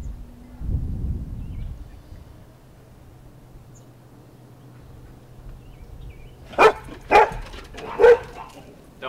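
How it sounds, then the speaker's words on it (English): After a low rumble and a quiet stretch, the household dogs let out three loud, sharp barks in quick succession, close by and fairly evenly spaced. "Don't mind our dogs."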